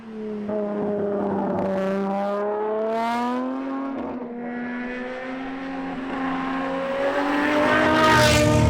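A Talos XXT, a road-going supercar based on the Ferrari 599XX with a V12, drives on a road, its engine note rising and holding steady in a loud continuous drone, with one brief dip before climbing again toward the end.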